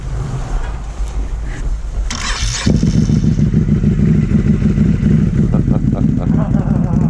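A motorcycle fitted with RJWC full stainless dual exhaust, starting up after a brief scrape and settling into a loud, close, deep, lumpy idle with steady rumbling pulses, while people talk nearby.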